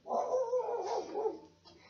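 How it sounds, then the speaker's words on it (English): A pit bull barks outdoors in one drawn-out, moderately loud burst that trails off toward the end, heard alone without speech. "She's a pit bull. What are you barking at?"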